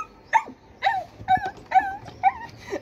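A Belgian Malinois puppy whimpers in a run of about five high, wavering whines, close and alone with only faint room noise beneath.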